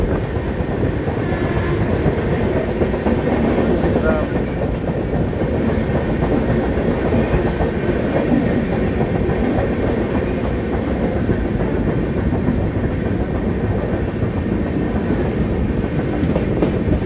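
A passenger train runs on rails toward its first stop at Arakkonam, with parallel tracks alongside: a loud, steady rumble and rhythmic clickety-clack carry on unbroken for the whole stretch, with no voices.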